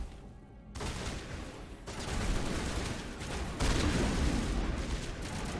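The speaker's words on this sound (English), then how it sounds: "Fires a rocket." Rocket fire and explosions in the video game Mass Effect 1, dense layered blasts and rumbling booms that swell in bursts over continuous combat noise.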